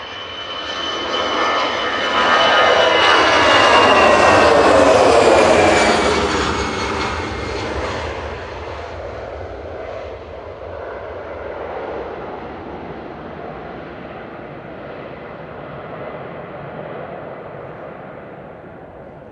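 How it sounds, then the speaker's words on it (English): A Finnair Airbus A319 departs Manchester Airport, its jet roar swelling loud as it passes near, peaking with a sweeping whine before fading into a long, distant rumble, with no talking. "So this is Finnair departing back to Helsinki with flight 1366."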